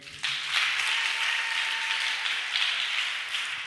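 Church congregation applauding and acclaiming the Lord at a Sunday service, a dense, steady wash of clapping and cheering that starts abruptly and holds at full strength throughout.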